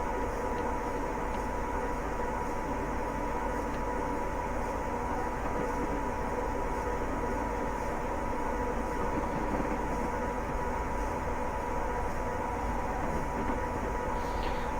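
A Class 87 electric locomotive runs at speed in the Train Simulator Classic game, giving a steady, unbroken hum and rumble with constant tonal whine that holds level throughout, with no talking.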